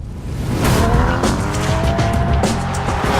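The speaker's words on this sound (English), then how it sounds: "Launching the Uber Cayman is pretty straightforward." A 2015 Porsche Cayman GTS launches hard from a standstill, its engine roaring loud and rising as the tires squeal and skid continuously for over three seconds.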